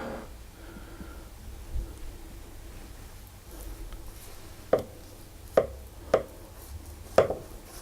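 A knife cuts through a hazelnut and soured cream layer cake, giving four crisp, sharp knocks as it meets the board below, after a quiet stretch of faint rustling.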